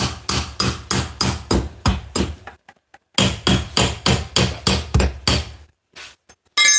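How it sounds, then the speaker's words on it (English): Sharp metallic strikes ring out in two quick rhythmic runs of about a dozen hits each, loud and close, a crowbar used as a hammer driving a nail, with a short pause between runs. "I have a crowbar here, since I don't really own a hammer. But crowbar works just as fine"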